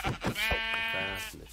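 A Minecraft sheep lets out a clear, wavering bleat, close and a bit quiet, with short clicky game sounds around it.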